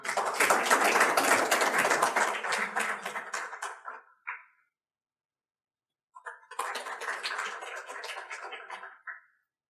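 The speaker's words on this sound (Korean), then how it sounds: "우리 윤석진 원장님을 박수로 맞이해 주시겠습니다." Warm applause at a technology and industry-academia forum in Korea, two bursts of many hands clapping, the first about four seconds long, then a short pause and a second round, fairly close and with no talking over it.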